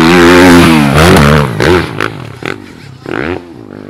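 A Stark Varg electric motocross bike on a ride, loud and close, its motor whine rising and falling in sweeping pitch changes with bursts of clatter.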